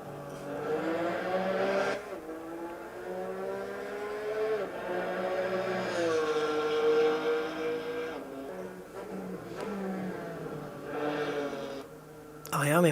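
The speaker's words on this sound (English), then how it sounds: "I am impressed with the engine sounds at the moment" Race car engine in Assetto Corsa Evo on an Austrian track, a steady high-pitched whine rising and falling through gear changes with brief dips between shifts, loud and continuous with talking over it.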